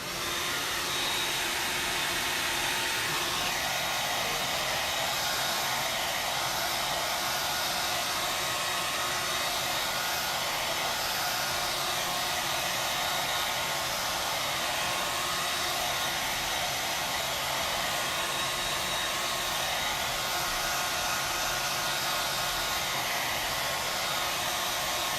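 Hair dryer blowing steadily and loudly on a chalk paint transfer over an enamel sign, a continuous airy roar with no pauses and no talking.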